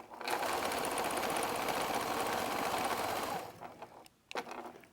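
Sewing machine stitching quilt fabric in a steady, fast continuous whir for about three and a half seconds, then stopping, followed by a few soft handling noises.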